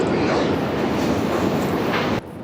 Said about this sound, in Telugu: ఆ సౌండ్ చూడండి, పైన ట్రైన్ పోతుంది కదా